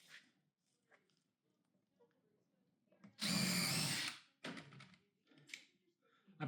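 A power drill pre-drills wood for big screws while a staircase is built: one loud, close whirring burst of about a second, with softer tool clicks and handling noise around it and low talking in the background.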